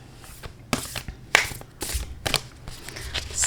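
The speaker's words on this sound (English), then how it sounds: "So let me go ahead and shuffle and pull a card for us." Hand shuffling of a large Queen Mab oracle card deck, done overhand, giving a series of sharp riffling snaps and soft slides at close range with no talk.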